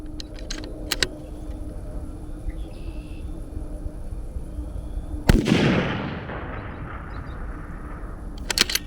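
A single sharp .308 Winchester rifle shot cracks loudly over steady outdoor background noise, followed by a short rolling echo. The shot is aimed at a steel target, and no one speaks.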